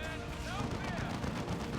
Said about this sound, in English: There's that heavy bolter doing its thing.